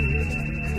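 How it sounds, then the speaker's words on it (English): A sonar-like ping made from a grand piano's high note played through a Leslie cabinet with added reverb: a steady, sustained tone that rings alone for under a second, close and fairly loud. "created using a high note from a grand piano put through a Leslie cabinet with reverb added"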